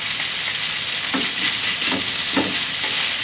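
Shrimp pad thai sizzles loudly in a hot pan, a dense, steady frying hiss broken by a few soft scraping stirs, close up and without talk.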